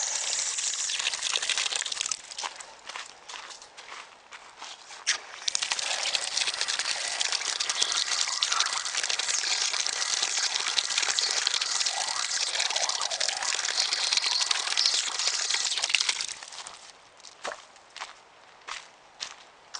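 Steady rushing water pours from a tap along a park trail for about fifteen seconds, then cuts off, leaving a few faint clicks and knocks.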